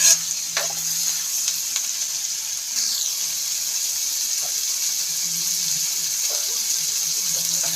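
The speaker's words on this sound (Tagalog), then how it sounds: "Medyo i-fry muna natin kunti yung ating labahita" Dried labahita fish, daing na labahita, fries in a pan with a steady, close hiss and sizzle. A few faint clinks and stirring noises come through the sizzle.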